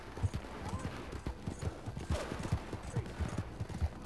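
Horse galloping in Red Dead Redemption 2, quick rhythmic hoofbeats pounding steadily and close, with occasional distant game noises in the background.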